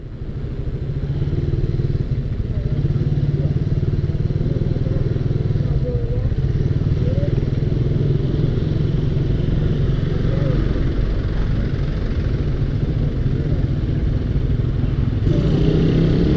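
A motorcycle idles and then pulls away on a busy city street in Batam at night, its steady low engine rumble continuous and close, with surrounding traffic noise.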